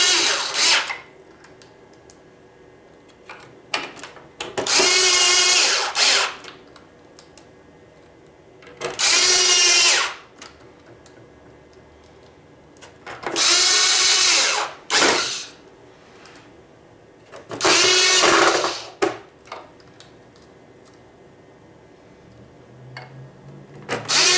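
A power drill drives screws during a double-board hoverboard repair, with five loud, close bursts of about a second each separated by quiet gaps.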